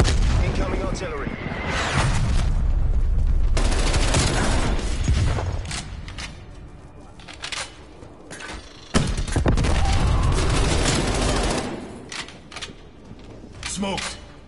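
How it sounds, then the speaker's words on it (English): Incoming artillery barrage in a PS4 first-person shooter, heavy rumbling blasts and booms that rise, fall and return, loud and close with brief quieter gaps. "Hostile artillery targeting active."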